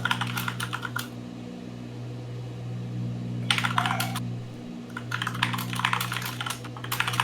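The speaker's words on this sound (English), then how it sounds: "I hear some typing. All kinds of typing going on over there." Someone types on a computer keyboard in bursts of rapid clicking separated by pauses, over a steady low engine-like hum, with no voices.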